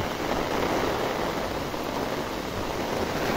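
A downpour drums on a deserted road in a constant, even wash of noise, unbroken and with no one speaking.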